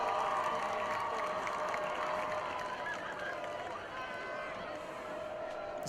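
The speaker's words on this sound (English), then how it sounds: "Rowdy student crowd, we like to hear that." A rowdy student crowd cheers at a high school varsity football game, Mahomet-Seymour against Morris, a continuous distant roar with a few yells rising over it while an announcer talks over the noise.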